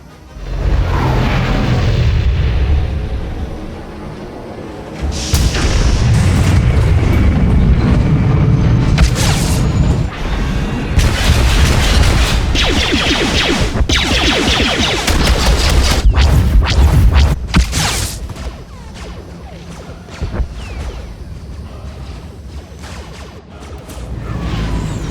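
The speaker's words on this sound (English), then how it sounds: "Artillery incoming!" Artillery shells explode in Star Wars: The Old Republic on Corellia. Loud, deep booms and crashing blasts with whooshing bursts come one after another over a continuous rumble, then ease to a quieter background near the end.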